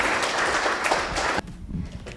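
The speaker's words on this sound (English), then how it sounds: "Clap for her as she comes to the front." An audience at a fireside chat event on China as a consumer market applauds as April Long, founder of Naskia Handmade, comes to the front. The clapping is steady and dense, then cuts off abruptly partway through, leaving faint room noise.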